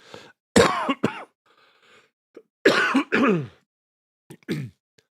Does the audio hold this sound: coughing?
yes